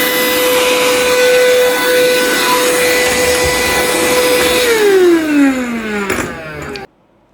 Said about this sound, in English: So I will try using my vacuum.